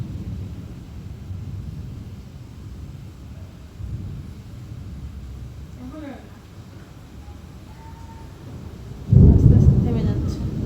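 A rainstorm roars in a steady, dense wash, with a louder rumbling surge near the end and faint voices briefly audible beneath it.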